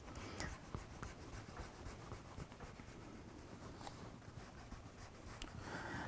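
A pencil eraser rubs out light perspective guidelines on drawing paper, giving a soft, steady scratchy friction with quick strokes that continue throughout at close range and fairly low volume, with no talking.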